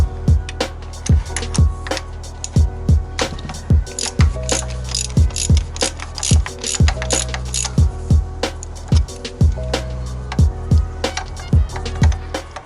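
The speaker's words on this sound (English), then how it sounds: "Keep twisting until the spark plug is completely loosened." A ratchet with a 16mm spark plug socket clicks as it loosens a spark plug on a Mazda MX-5 NA Miata. It runs through repeated close bursts of rapid pawl clicks between short pauses, with no talk.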